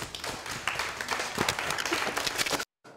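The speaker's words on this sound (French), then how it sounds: "On peut les applaudir bien fort." Audience applause at a French television studio show, a dense steady wash of many hands clapping close and loud for about two and a half seconds before cutting off abruptly into near silence.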